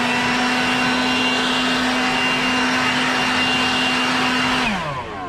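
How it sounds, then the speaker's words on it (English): A leaf blower roars close and steady while blowing leaves off glued pea gravel, a loud continuous whine that winds down at the end. "But I got my blower here, had a few leaves on it,"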